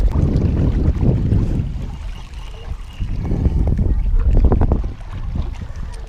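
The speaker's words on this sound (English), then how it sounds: "It's a little too windy right now." Gusty wind buffets the microphone while fishing for smallmouth bass from a boat, a steady low rumbling roar with surges, close and loud, with faint water lapping beneath.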